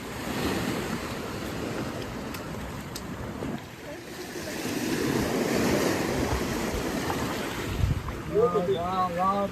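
Sea waves roll onto Udupi beach as a broad, continuous wash of surf mixed with wind buffeting the microphone, swelling and easing over several seconds, with faint voices and a short chirpy sound near the end.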